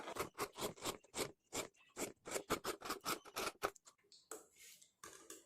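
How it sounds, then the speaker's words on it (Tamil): Scissors snip through blouse patti fabric in a quick, rhythmic series of close, crisp cuts, pausing briefly before a last pair of snips near the end. "கட் பண்ணும்போது ரீசெக் பண்ணிடுங்க ரெண்டும் கீழே சேமாக தான் வச்சுருக்கீங்களா அப்படிங்கிறத செக் பண்ணிவிட்டு நம்ம கட் பண்ணி எடுத்துடலாம்"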